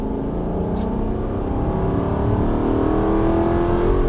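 An Aston Martin Vantage V8 engine drones steadily at close range on a track, its pitch slowly climbing as it accelerates, with no pauses across the stretch.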